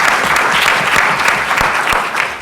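Loud, dense applause from a conference audience at a voting-rights forum, greeting Mel White with many hands clapping steadily throughout.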